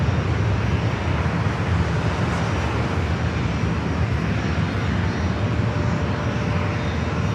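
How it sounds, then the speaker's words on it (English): A Vision jet departs San Diego airport, its engine a loud, steady broadband roar that holds near and constant throughout with no talk over it. "They're going to let this Vision jet get on out of here"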